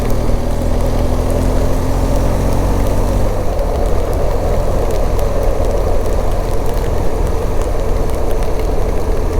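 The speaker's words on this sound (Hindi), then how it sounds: "बारिश हो रही है" Steady rain falling during a June road trip in Ladakh, a dense hiss that holds loud and constant throughout alongside a low engine idle rumble, with no voices.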